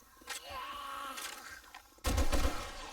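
Gunfire rings out in 7 Days to Die, with a few scattered shots and then a loud, close burst near the end over a low background hum, with no talking.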